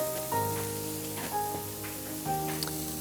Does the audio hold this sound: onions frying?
yes